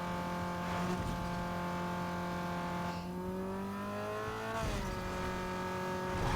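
A Vauxhall racing in Need For Speed Underground 2 holds a steady engine drone that shifts pitch as it changes gear, with brief tire and road noise, loud and continuous throughout.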